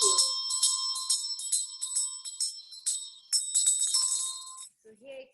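A small handheld ritual bell rung in a fast, continuous shimmering tremolo, bright and close, stopping abruptly before a brief voice at the end.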